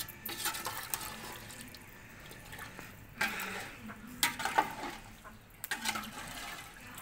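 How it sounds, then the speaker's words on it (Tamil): Water in a pot on a wood-fired stove on a rooftop bubbles and churns at a boil, with irregular splashy bursts and surges over a low crackling background, heard close with no talk. "தண்ணி கொதிக்கட்டும்."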